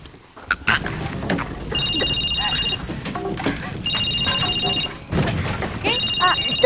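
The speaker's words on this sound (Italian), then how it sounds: "Ah, il telefono!" A telephone rings in repeated electronic bursts, each trill lasting about a second with short gaps, loud and near over background noise and bustle in an indoor comedy scene.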